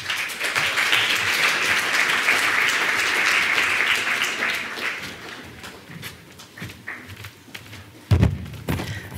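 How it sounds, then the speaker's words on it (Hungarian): An audience at a church service applauds loudly to welcome a speaker, sustained clapping that fades after a few seconds into scattered claps and thuds. "fogadjuk nagy tapssal Sziszit."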